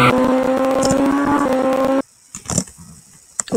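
The fastest drag racing car in the Drag Racer v3 video game holds a loud, steady engine drone for about two seconds. It then cuts off abruptly, leaving a few faint clicks and thumps.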